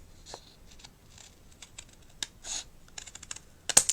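Quiet, intermittent snips and crisp paper rustles, close up, in short irregular bursts with a sharper cut near the end.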